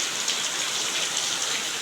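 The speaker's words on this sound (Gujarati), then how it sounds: "તો મસ્ત આજ વરસાદ આવ્યો છે, તો તમે જોઈ શકો." Heavy rain pours down in a steady, dense hiss that holds evenly for the whole stretch, close and fairly loud, with no voices over it.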